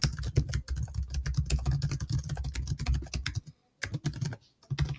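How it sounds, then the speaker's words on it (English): Typing on a computer keyboard in a Google Doc, a quick irregular run of key clicks that pauses briefly before a few final taps, close and clear with no talk. "So if I type"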